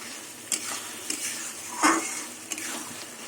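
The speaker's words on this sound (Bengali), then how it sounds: "বিনস মাশরুম বাদাম ভাজা সব একসাথে দিয়ে দিলাম" Beans, mushrooms, capsicum and fried nuts are stirred together in a pan over a very low flame, giving a gentle steady sizzle with a few light scraping taps of the spoon.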